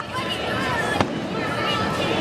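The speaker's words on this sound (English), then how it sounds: "Fireworks." Fourth of July fireworks crackling and booming outdoors, with one sharp burst standing out amid ongoing crowd noise and people chatting nearby.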